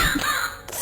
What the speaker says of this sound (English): Oh no. It's a blood crow.